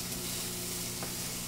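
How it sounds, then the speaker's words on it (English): Food heating in a skillet gives off a steady, close hiss of sizzling and frying with a faint stir, and no voices over it. "I just heat it up in the skillet, and it mixes and gets a little bit better flavor"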